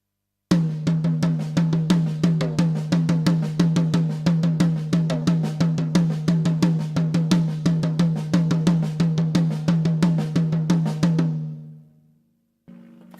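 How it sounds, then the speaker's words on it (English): A drum paradiddle played with alternating right- and left-hand lead patterns and accents, a steady rapid stream of crisp strokes with regular accented pulses, ending with a short ringing decay and a final tap. "So that was a paradiddle again, but just leading with the right hand and accenting that, and then leading with the left hand and accenting that."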